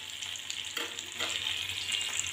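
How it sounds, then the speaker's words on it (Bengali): Kingfish pieces frying in a pan make a bright, steady hiss of hot oil, close and fairly even, with a couple of brief swells from movement in the pan, no talking. "এবার নিচের দিকগুলো ভাজা হচ্ছে।"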